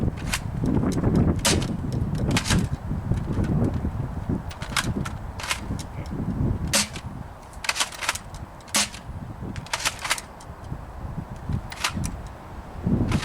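Jet Blaster CEDA Model-S toy blaster fires a rapid string of sharp snapping shots, irregularly spaced and fairly close, with a continual low rumble and handling noise underneath.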